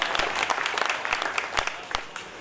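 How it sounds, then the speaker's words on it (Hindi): Listeners at a Hindi poetry gathering in Etmadpur clap loudly, a thick roar of applause with sharper individual claps standing out throughout, one voice briefly audible underneath. "एक बार व्यवस्थाओं के नाम पर जोरदार तालियां होनी चाहिए"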